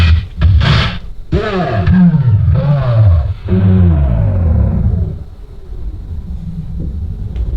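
Music playing on a Rane Twelve turntable controller winds down as the platter is slowed, the tones sliding lower in pitch and dragging before fading into a quiet tail.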